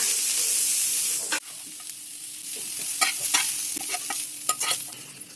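A pan of ingredients being stir-fried for akki rotti sizzles steadily while a spoon scrapes and taps through it in uneven strokes. The sound is close and fairly loud, with no voices.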